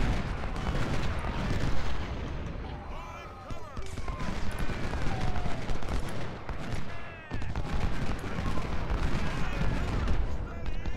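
Cannon and musket fire crackle through a Civil War battle in the strategy game Ultimate General: Civil War, a dense, loud, overlapping barrage of shots and booms that rolls on for the whole stretch.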